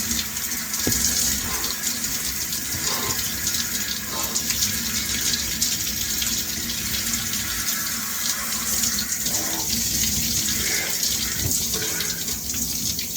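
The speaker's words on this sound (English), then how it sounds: "Gonna take a cold shower." Cold shower running steadily, water spraying and splashing continuously at close range for the whole stretch, with no talking.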